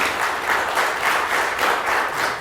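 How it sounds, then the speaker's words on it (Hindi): Audience applause at a silver jubilee award show in Chitral, a steady wash of clapping that swells and eases in loose waves throughout, fairly close and without talk over it. "तालियां होनी चाहिए माशाल्लाह।"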